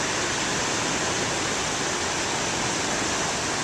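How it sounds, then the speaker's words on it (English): Big ocean waves rumble steadily on a winter morning, a dense unbroken roar of surf filling the scene at close range with no pauses or voices. "not from thunder, but from the waves."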